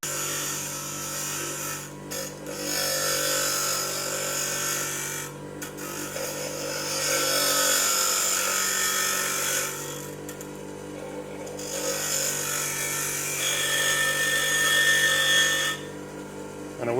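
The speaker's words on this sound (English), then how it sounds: "so I'm going to flick the grinder on. Going to hold my key with my pliers" A bench grinder whirs steadily as a key held in pliers is pressed against the wheel, the grinding rasp swelling and easing in several bursts with brief pauses between passes.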